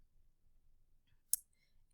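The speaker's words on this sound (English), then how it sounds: "So I will click Save" A single quiet mouse click on a Save button, sharp and isolated against near silence.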